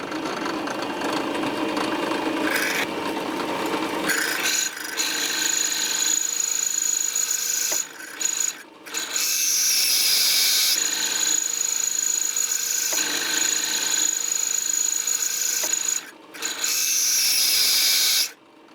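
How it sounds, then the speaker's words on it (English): A power drill boring out dowel holes in an old broken knife handle, a high whining buzz running in long steady bursts with brief stops and restarts between them. "So let's try to drill this open."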